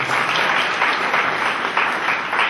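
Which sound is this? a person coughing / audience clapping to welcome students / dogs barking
audience clapping to welcome students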